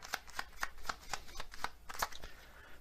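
Kipper oracle cards are shuffled in a steady run of crisp riffles and taps, about ten evenly spaced bursts close to the microphone with no talking.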